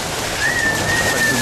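About 170 young racing pigeons at a loft in Germany feed together, making a steady, close rustling clatter. A thin sustained whistle-like tone runs over the noise partway through.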